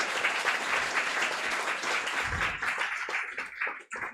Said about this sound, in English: He deserves a big applause